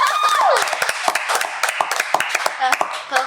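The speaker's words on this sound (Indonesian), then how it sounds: "Tepuk tangan audiens." Small audience applause during a talk-show style discussion, scattered individual claps, sparse and uneven at first, with whoops and voices mixed in.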